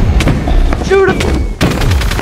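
Guns fire at the Ender Dragon in modded Minecraft, loud close bursts of rapid shots broken by a short pause, with a voice talking over them.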